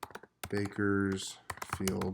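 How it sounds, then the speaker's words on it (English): A computer keyboard being typed on as a city name is entered, with a few quick key clicks heard under a person's close, clear speech. "you can simply type in the city"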